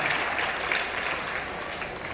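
A seated audience claps together at a spiritual talk on the Gita, a dense, steady patter of many hands filling the whole stretch at moderate level.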